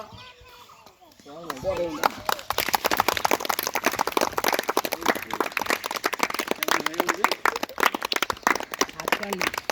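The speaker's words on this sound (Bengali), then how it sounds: "সবাই মিলে হাততালি দিবা" A crowd of children claps together as India's national flag is raised at a Republic Day celebration: dense, steady clapping starts after a short quiet opening and continues to the end, mixed with children's voices.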